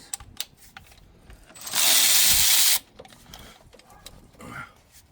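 A hand tool loosens the turbo charge pipe bolt on a 2018 Mitsubishi Eclipse Cross 1.5L turbo, with a loud rapid ratcheting burst of about a second amid scattered clicks and handling noises.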